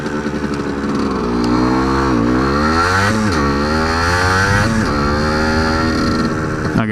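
A 1978 Suzuki TS100 motorcycle engine runs steadily and loud throughout a ride, its pitch rising and falling as the rider revs up and eases off repeatedly.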